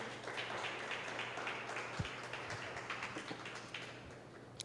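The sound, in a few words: church congregation applause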